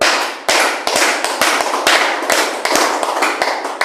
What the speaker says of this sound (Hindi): देखो ताली ऐसे बजाई जाती है